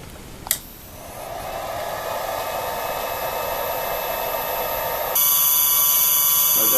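A CNC spindle motor driven by an inverter, set to about half speed, runs alone with a steady high-pitched whine after a brief click, its tone shifting and growing slightly louder partway through.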